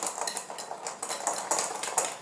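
A spoon or spatula works clementine zest into a date bar mixture in a bowl, quick rhythmic scraping and clinking strokes, close and bright, with no voices.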